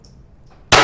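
A single loud rifle shot cracks out near the end on an outdoor firing range during timed rapid fire with a Kadet rifle, sharp and close after a quiet stretch.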